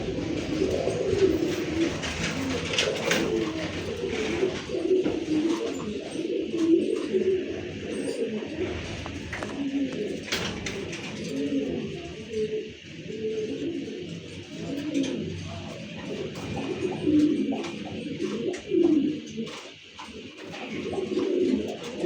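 Domestic pigeons coo repeatedly and close by, a steady chorus of low throaty rolling calls overlapping through the whole stretch, with occasional flutters and faint background noise but no talk.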